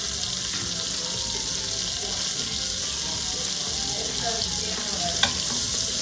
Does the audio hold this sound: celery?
yes